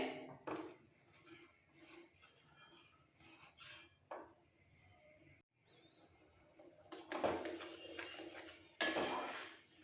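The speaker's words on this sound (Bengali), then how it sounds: "ভালো করে নেড়ে নিতে হবে" Paneer gravy being stirred in a pan, with soft intermittent scraping and clinks of a spoon against the pan, quiet and close, including a couple of louder rustling scrapes near the end and no talk.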